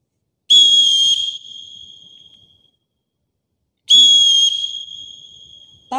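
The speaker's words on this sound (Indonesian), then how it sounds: "berbarengan sama bunyi peluit" Two loud, shrill volleyball referee whistle blasts about three seconds apart, each held for roughly a second, close by with silence between them.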